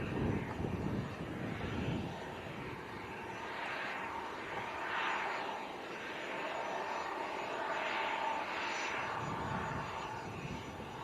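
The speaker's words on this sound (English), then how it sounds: "Cessna Citation 680 latitude" A Cessna Citation 680 Latitude business jet taxis at an evening airport, giving a steady, fairly faint distant engine roar with a slow swelling whine and no talk.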